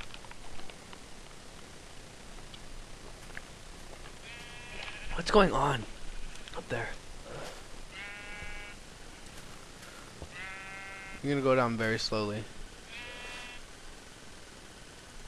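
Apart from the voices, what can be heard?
puff sheep bleating in modded Minecraft video game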